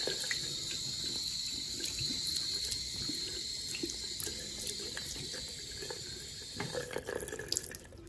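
Water runs from a tap to wet a wig base, a steady close splashing stream with scattered drips and handling noises, growing more agitated near the end.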